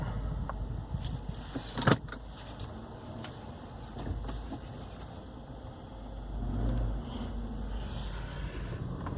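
A car driving slowly toward a retail building, its engine hum and road noise steady and quiet from inside the cabin, with a sharp clunk near the start and a brief swell later.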